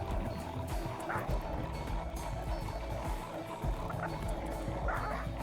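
A pack of puppies barks in the RimWorld video game, with a few faint, scattered yaps over a steady low rumble of background game noise.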